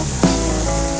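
Vegetable fritters fry until golden brown in hot oil, giving a constant loud hiss and sizzle with one brief louder crackle near the start.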